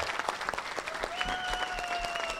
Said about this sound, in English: How about a round of applause for our veterans in the crowd